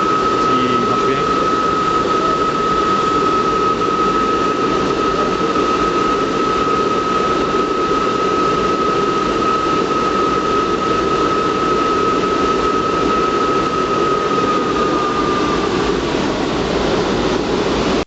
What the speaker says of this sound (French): Le brûleur est démarré, je suis en première allure, à l'heure mini.